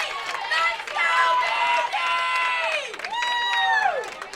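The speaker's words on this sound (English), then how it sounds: "Boy, you can hear the crowd behind us." A loud crowd at a high school bowling state final in Indiana cheers and shouts in high, wavering bursts that rise and fall, with a few voices standing out close by.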